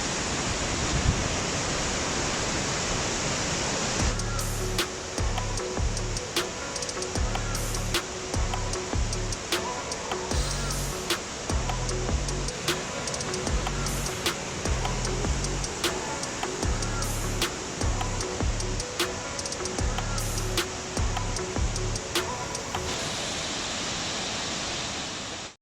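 Steady broadband roar of the Dambri waterfall in Bao Loc, Lam Dong, Vietnam, a dense continuous rush of falling water that fills the whole clip with no break.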